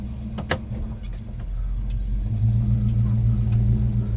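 A 1964 Chevrolet Nova II pulls away and drives, its engine hum rising and settling into a steady low drone inside the car, with a few clicks and knocks early on.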